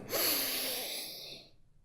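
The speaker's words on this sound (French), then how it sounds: "Respirez à fond." A single deep breath drawn in and slowly let out, close and fairly soft, fading to silence at the end.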